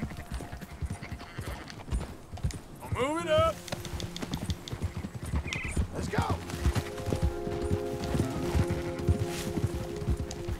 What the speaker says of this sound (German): Ich gucke gerade auf 15 Pferde.